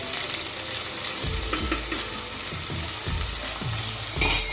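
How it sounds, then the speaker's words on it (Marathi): A misal mixture with puree cooks and is stirred in a pan, giving a steady close sizzle broken by repeated scraping spoon strokes and a louder clatter at the end. "मिक्स करून घ्यायचं चांगलं याला दोन तीन मिनटं असं चांगलं शिजू द्यायचे"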